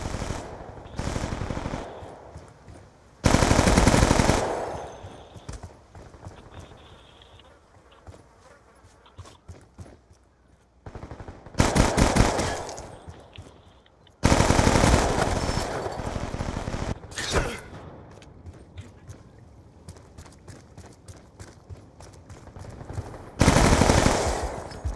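Rapid bursts of video game gunfire from pink guns rattle out in loud repeated volleys, separated by quieter stretches with lighter clicks and footstep-like taps.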